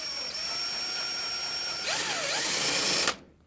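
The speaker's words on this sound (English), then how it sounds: "drill all your holes with the bigger bit" A power drill whines steadily, then bites into knife-handle material with a rising, strained pitch before cutting off abruptly.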